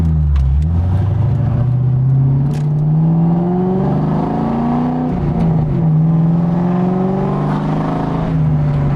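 A 2002 Mustang GT V8 with an SLP exhaust pulls hard under acceleration, its deep, steady engine note rising through the gears and then settling, close by and loud, with no talking.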